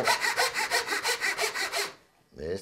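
A saw cuts a series of notches into a length of cane for a traditional handmade musical instrument, about a dozen quick, even rasping strokes close up, then a pause and one more stroke.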